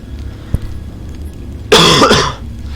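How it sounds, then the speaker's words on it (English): A single loud, harsh cough bursts out close to the microphone after a small thump and a quiet stretch, with a throat-clearing quality. "Sorry, I needed to cough."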